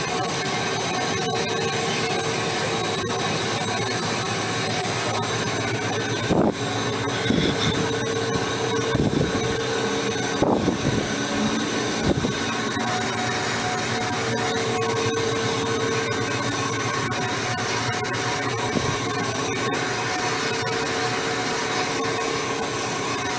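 A vertical bandsaw running at about 569 to 585 RPM gives a loud, steady mechanical roar with a constant whine that holds level for the whole stretch. Several brief louder knocks and bumps break through around the middle.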